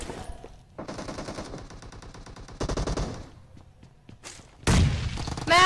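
Rapid automatic gunfire in the battle royale video game BGMI, loud dense bursts of machine-gun fire separated by short gaps, then a heavy close burst at the end.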